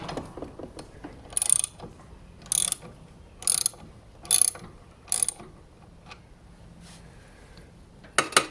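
A ratchet loosens a pulley on a riding lawn mower's mandrel. Six short bursts of close, bright clicking ring out at steady intervals, separated by quiet gaps with faint metallic handling noises.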